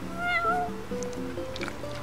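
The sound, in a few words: cat meowing in Final Fantasy XV video game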